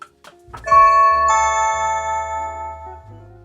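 A Blink video doorbell chime rings out clearly, a two-tone ding-dong whose bright notes linger and slowly fade, preceded by a couple of faint clicks.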